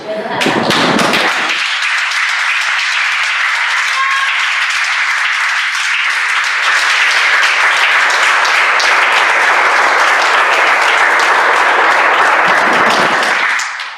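Sustained applause from a church congregation during a sermon, a dense steady wash of clapping that swells in after a brief pause and holds for over ten seconds before fading.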